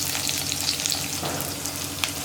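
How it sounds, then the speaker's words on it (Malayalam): Steady, dense sizzling of chopped onions frying in hot coconut oil, continuous and close, with a few faint stirring clinks and no voices. "നമ്മൾ കട്ട് ചെയ്ത് വെച്ചിരിക്കുന്ന സവോള ചേർക്കാം"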